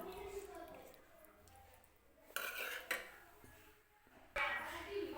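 A spoon stirs yogurt into a pot of potato kurma, giving quiet scraping strokes with a few sharper clanks of metal against the pan.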